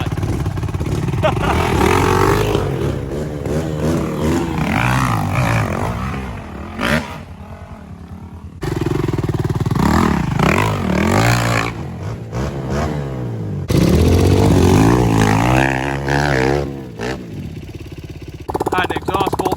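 A Hawk 250 dirt bike engine revs and strains in rising, wavering bursts climbing a hill, pausing and resuming, with a voice speaking briefly amid the noise.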